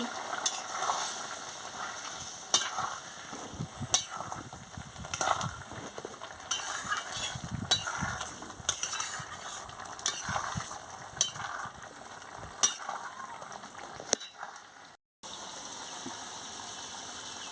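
Pointed gourd, ridge gourd and potato stir-fried in a pan, giving a steady close sizzle broken by repeated scraping and clicking strokes of the spatula, and cut short near the end.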